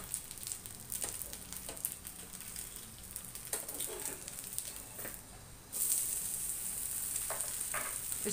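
A neer masala dosa fries on a pan with a steady close sizzle that swells louder and brighter partway through after it is turned, with light scraping touches and no talk.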